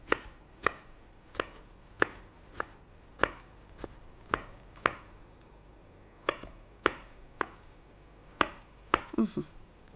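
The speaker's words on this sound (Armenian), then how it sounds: "անում ենք ու հետո այսպես մանր կտրատելու ենք։" A knife finely chops green bell pepper on a cutting board in a steady run of crisp, close taps, with a short pause partway and a quick cluster of cuts at the end; nobody speaks.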